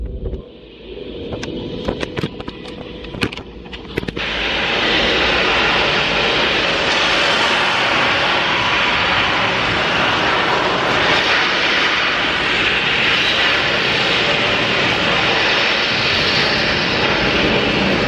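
A rocket launch at Kennedy Space Center: a few sharp crackles, then a sudden loud, broad, sustained roar that fills the rest of the stretch steadily with no speech over it.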